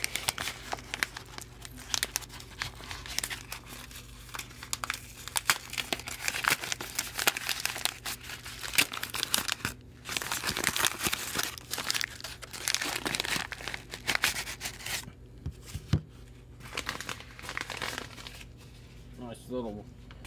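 A padded mail envelope crinkles and tears as it is opened and handled, close and busy with rustling throughout, with a voice talking over it.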